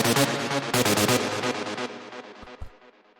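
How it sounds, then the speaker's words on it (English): A synth lead steps down the scale in a cosmic techno track at 130 BPM, a bright run of rhythmic notes that gradually quiets and thins out before a final hit. "The first sound that I have here is this lead, which sounds like this."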